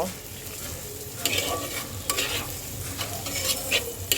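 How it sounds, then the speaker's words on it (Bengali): A prawn mixture frying in a pan gives a steady close sizzle, broken by repeated scraping stirs of a spatula every second or so, with no voices. "এখন আমি এটাকে সুন্দর করে ভাজা ভাজা করব"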